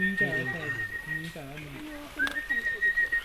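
Squeaky, chirping whistle calls from pandas in Chengdu, China, come in short bursts, with a thin, high sustained whistle running through parts of it.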